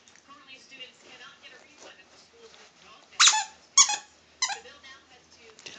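Doberman Pinscher chewing a squeaky football toy, its squeaker letting out several loud, sharp squeaks in the second half amid chewing and mouthing sounds, with people talking faintly throughout.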